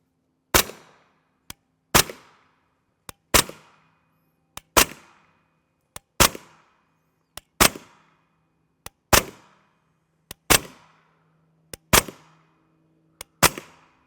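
Suppressed 9mm 147-grain AAC FMJ rounds fired from a pistol-caliber carbine with a 7.72-inch barrel: ten evenly spaced, muffled shots about every 1.3 seconds, each followed by a short decay, with faint clicks in between.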